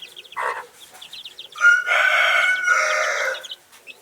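A Kienyeji brooding hen with her chicks on a poultry farm lets out a short cluck, then two longer, loud, throaty calls close by, with quiet gaps between them.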